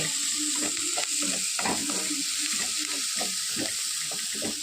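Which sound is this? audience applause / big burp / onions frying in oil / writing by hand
onions frying in oil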